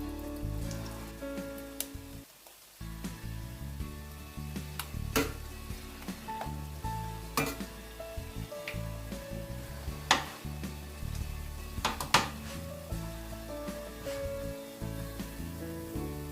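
Cameroonian puff-puff dough frying in hot oil, a continuous soft sizzle and crackle with scattered sharp pops and clicks, fairly close and moderately quiet.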